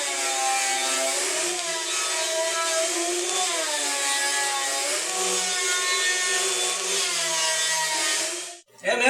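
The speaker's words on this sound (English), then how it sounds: "And now it's table saw time." A table saw rips through wood boards being squared for an end-grain checkered cutting board, giving a steady loud whine with shifting pitch for about eight seconds before the blade stops suddenly.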